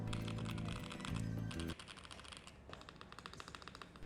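Keys tapping in rapid succession on an Asus ROG Azoth Extreme mechanical keyboard, a dense run of crisp clicks, close and fairly quiet, partly under a brief musical tone at the start.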